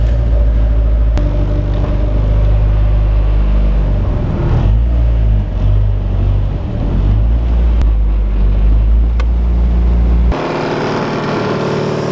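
A Honda Civic on air cup suspension and aggressive coilovers being driven, with a steady, loud low engine and road drone plus wind rumble filling the clip, ending abruptly in a quieter cabin hiss.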